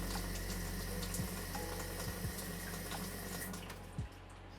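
A kitchen tap runs steadily from an under-sink water heater setup, a continuous close hiss of flowing water with a few faint low knocks underneath.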